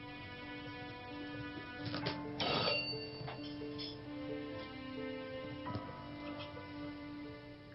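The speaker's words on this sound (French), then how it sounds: "N'as-tu pas entendu la sonnerie?" A faint, steady electronic telephone ring repeats in the background, with some muffled knocks and movement noises over it.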